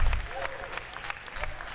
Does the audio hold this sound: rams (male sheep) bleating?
no